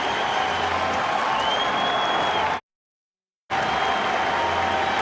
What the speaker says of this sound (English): Very warm reception for Greg Maddux from the crowd here in San Francisco.